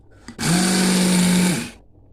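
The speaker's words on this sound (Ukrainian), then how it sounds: "Мак перебиваю до того моменту, поки з нього не вийде біла рідина." A loud blender grinding poppy seeds whirs steadily for about a second, then winds down, with a faint click before it starts.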